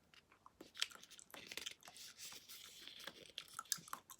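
A chewable supplement is crunched and chewed up close, with soft, irregular bites and crackles over about four seconds, quiet and with no talking.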